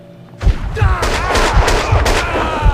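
Gunfire in Max Payne 2 lands as a string of heavy, booming shots, about half a dozen spaced irregularly in loud, close bursts over ongoing game ambience.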